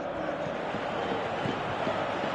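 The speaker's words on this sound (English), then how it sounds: "you can hear how the crowd are reacting to this too" A stadium crowd murmurs and roars steadily throughout a Valencia C.F. football match in the video game PES 2018, a broad wash of noise that never stops.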